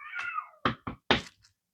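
A pet cat close by lets out one long, wavering meow, followed by three short, sharp chirping meows in quick succession, then quiet.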